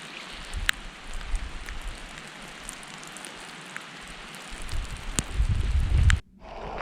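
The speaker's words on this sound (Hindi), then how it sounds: "बारिश के कतरे मेरी रेनकोट से टकरा कर एक खूबसूरत मौसीकी का सा समा पैदा कर रहे थे।" Steady patter of rain striking a raincoat while riding a bike through a European downpour, a dense continuous hiss with occasional sharper drops, a low rumble swelling near the end before it abruptly drops away.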